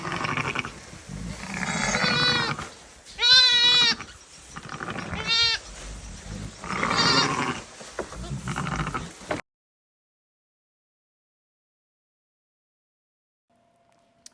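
A ewe and her two lambs bleating nearby in a barn, several drawn-out, wavering calls mixed with rustling and movement, then sudden silence.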